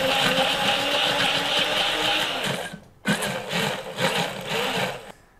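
A blender grinds a spice paste for sate maranggi, a loud steady whirring roar that cuts out briefly, restarts, then pulses unevenly before falling silent.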